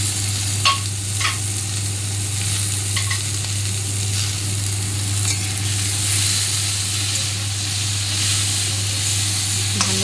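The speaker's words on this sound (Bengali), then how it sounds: "ভালো করে এবার মশলাটাকে ভালো করে নাড়িয়ে চাড়িয়ে নেব আলুর সাথে" Chopped tomato and masala frying with potatoes for an old-style egg omelette curry, stirred in the pan with a steady sizzle, a low hum beneath and occasional spoon scrapes.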